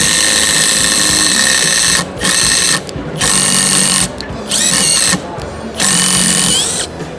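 A 12 volt cordless drill bores straight down into a wooden board near a knot, whining loudly and steadily in several bursts with short pauses between them as the motor stops and restarts, close and alone.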